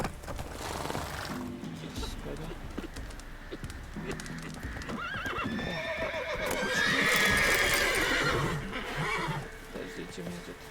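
Horses in The Witcher 3: Wild Hunt whinny and neigh amid clip-clopping hooves and bird calls, with a loud rising whinny in the middle over busy game background noise.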